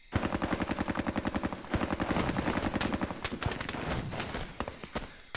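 Rapid sustained gunfire from a squad in the Squad Battles war game, a loud, evenly spaced rattle of shots that runs nearly the whole time and trails off into scattered single shots near the end.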